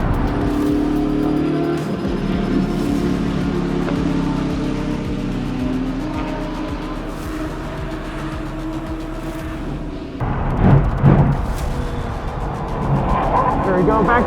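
A BMW M car accelerating at full power around a race track, its engine note droning and rising as the sound grows louder toward the end, with excited talking over it.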